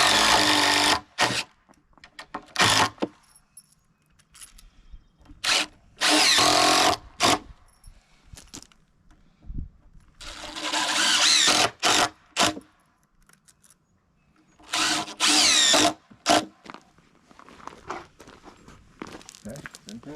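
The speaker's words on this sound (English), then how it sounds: "Now we can go ahead and put these screws in." A power drill drives screws into a wooden 4x8 raised garden bed in repeated loud whirring bursts, each a second or two long, separated by pauses with shuffling and handling noises nearby.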